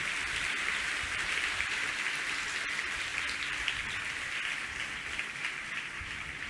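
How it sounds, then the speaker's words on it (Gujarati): Audience at a talk for hostel students applauds, a sustained even roar of many hands clapping that stays level and fairly far off for several seconds with no speech. "જોરદાર તાળીઓનો નાદ થવો જોઈએ મિત્રો."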